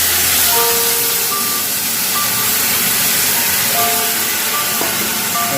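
Loud, steady sizzling hiss as water is poured into frying lentils in a hot pan, with faint beeping tones in the background.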